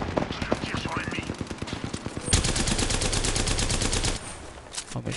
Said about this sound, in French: Je tire sur l'ennemi.